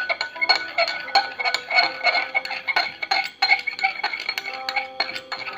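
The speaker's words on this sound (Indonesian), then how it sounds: "jadi proses ini kita aduk terus sampai 5 atau 10 menit" A soap mixture made from used cooking oil is stirred with a utensil knocking against its container, making a loud, close run of irregular clinks and taps with no talk.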